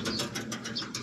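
An injured racing pigeon coos in low, soft murmurs, heard close and fairly steady across a single second with no talking.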